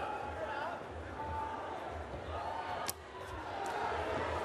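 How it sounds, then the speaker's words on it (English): A lively arena crowd at a ONE Championship Muay Thai fight night in the United States keeps up a steady roar and chatter beneath a commentator's voice, with a few sharp shouts standing out. "A spirited crowd."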